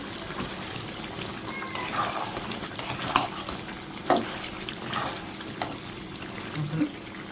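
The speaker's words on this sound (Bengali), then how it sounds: "এখন আমি আলু দিয়ে আর একটু ভালো করে কষাই নেব দিয়ে দিলাম আলু" Potatoes being fried and stirred with spices in oil, for a Bengali dish that also has meat: a steady sizzle under repeated scraping stir strokes, close by, with no talking.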